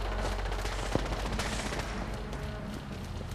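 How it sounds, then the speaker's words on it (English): Gunfire in Fallout 4 from a fight against rogue robots at Croup Manor: a dense, continuous rattle of rapid shots with a few sharper cracks, fairly faint and mixed with game noise, with no talking. "He's already shooting at them."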